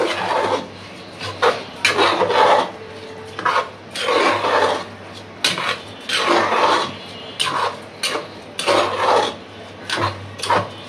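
Khichuri being stirred and fried in a pot, a spatula scraping and rasping against the metal in repeated uneven strokes with short pauses between, close and fairly loud, no talking.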